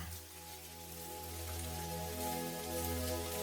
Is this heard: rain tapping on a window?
yes